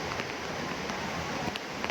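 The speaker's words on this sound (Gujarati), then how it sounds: "એટલો વરસાદ આવે છે" Heavy rain at the Pavagadh hill shrine, a dense continuous hiss of downpour pounding surfaces, with no pauses and a few louder splashes.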